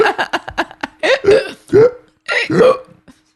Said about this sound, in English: I hiccup, you snort